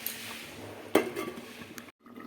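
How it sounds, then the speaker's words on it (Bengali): A lid clanks onto a pot of Bengali sea fish curry with potatoes: one sharp close knock, a short rattle, then quiet simmering before near silence. "আর একটু ঢাকা দিয়ে দেবো"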